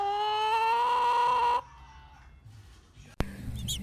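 A chicken gives a drawn-out, rising call lasting over a second, then goes quiet. A sharp knock follows near the end.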